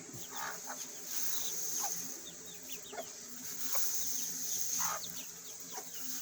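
Hens clucking softly on a farm, a mother hen among her chicks, with scattered short calls and chirps over a quiet, steady background.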